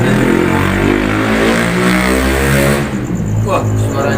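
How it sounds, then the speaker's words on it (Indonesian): Motorcycles pass along a busy road at night, engines droning loudly and continuously with rising and falling revs, one close pass fading near the end. "suaranya motor ini lalu lalang masih ramai ya teman-teman"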